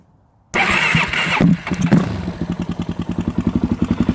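A 2013 Suzuki DRZ400SM motorcycle engine cranks and fires up after a brief silence, then settles into a loud, close, steady pulsing idle with choke on.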